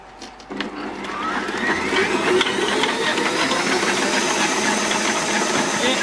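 Stand mixer kneading 100% spelt bread dough at high speed, a steady loud motor whir with rhythmic slapping and knocking from the dough, rising as the speed picks up and then holding constant.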